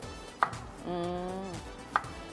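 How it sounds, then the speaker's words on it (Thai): A knife chops cabbage into fine shreds for fried rice in a kitchen, giving two crisp, distinct knocks about one and a half seconds apart with a faint ringing tone between them. No one talks. "เราก็จะมีกระหล่ำปลี ซอยให้เล็ก"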